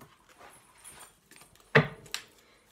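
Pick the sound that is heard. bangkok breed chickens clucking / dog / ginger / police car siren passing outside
dog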